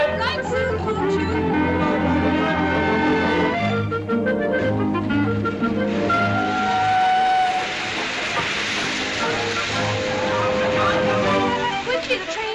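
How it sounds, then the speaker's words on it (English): A steam train arriving at a station hisses and whistles loudly in the foreground, a long tonal whistle rising over rumbling, clanking rail noise, with voices mixed in. "Quickly, the train's here."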